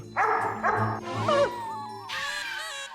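A stolen pet dog gives a few short, close yips and barks with whimpering tones, broken by brief pauses, loud and alone.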